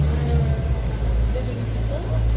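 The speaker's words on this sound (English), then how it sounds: "that bus is loud" On a busy Brussels street, a loud bus rumbles past with a deep, throbbing engine drone that dominates the scene, and a voice can be heard faintly beneath it.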